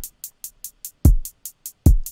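A punchy kick drum sample in a hip-hop beat lands twice, loud and low, under a steady run of quick crisp hi-hat ticks.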